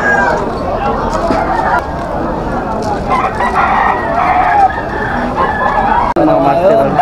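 A White Kelso gamefowl rooster crows at a busy pet market. Several crows and clucks come from nearby birds over constant crowd babble, and people talk close by.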